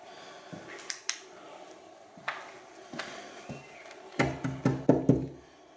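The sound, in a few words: knocking on a door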